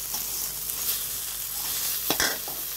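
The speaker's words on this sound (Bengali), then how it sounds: "পেঁয়াজ মরিচের মধ্যে বেগুন গুলো দিয়ে দিলাম" Fried eggplant pieces sizzle in a pan with onion and chili, under a soft continuous hiss broken by a couple of scraping spatula stirs near the end.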